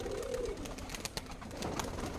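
Pigeons coo at a pigeon loft on a farm keeping tumbler pigeons, with soft repeated low coos and some wing flutter close by, continuing without any talk.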